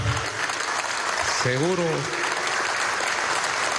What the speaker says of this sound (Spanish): Un aplauso a nuestro comandante